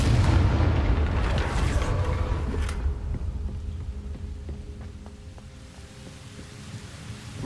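A Confringo blasting spell erupts in Hogwarts Legacy with a loud, deep explosive boom that rumbles for a couple of seconds, then settles into crackling debris and a low decaying rumble.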